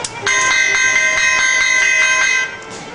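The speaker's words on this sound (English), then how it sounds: "we use a bell to call them inside for training" A ringing bell is sounded to call tiger cubs inside at a Six Flags Great Adventure tiger show, a loud rapid metallic clanging lasting about two seconds before stopping.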